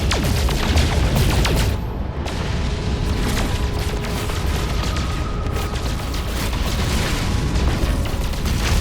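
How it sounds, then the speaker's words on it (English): Rapid bursts of blaster fire and booming rock impacts while shooting asteroids in No Man's Sky, dense and continuous over several seconds with no voice. "what you want to do is you want to shoot the rocks."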